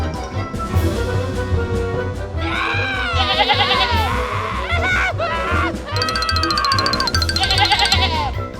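Cartoon sheep bleating repeatedly, loud wavering cries in quick succession, close and prominent over a low rumbling backdrop.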